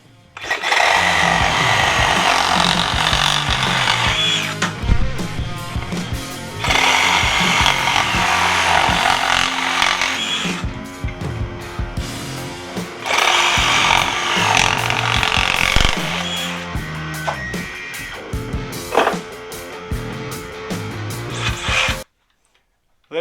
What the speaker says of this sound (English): this reciprocating saw here is just faster in every way